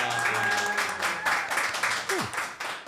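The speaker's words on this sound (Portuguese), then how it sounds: "uma salva de palmas para Gleison Jackson" An audience claps for a guest, a cover performer, in a brief burst of pulsing applause over background sound, with some voices underneath.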